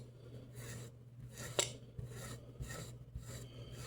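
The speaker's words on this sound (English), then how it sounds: "you go and you scrape them off with a butter knife" A butter knife scrapes tomato seeds off a napkin in repeated rasping strokes, about two per second. The strokes are soft and close, with one sharper scratch in the middle, and no voices.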